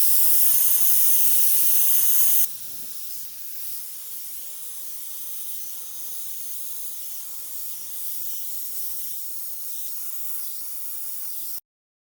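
An airbrush sprays paint in a loud, bright hiss for about two seconds, then carries on as a softer, steady spray that cuts off abruptly near the end.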